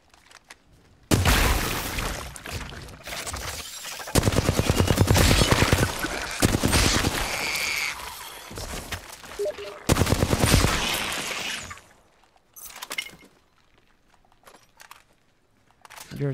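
Heavy gunfire in Apex Legends, a dense run of rapid shots with booming bursts that stop, then sparse distant shots follow in a quieter stretch.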